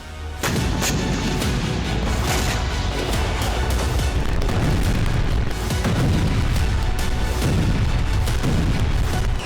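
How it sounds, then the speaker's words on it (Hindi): Continuous loud booming blasts and rumbling detonations from an attack on a gas pipeline, dense and heavy throughout, like heavy artillery or explosions. "एक जोरदार धमाके से इलाका दहल उठा"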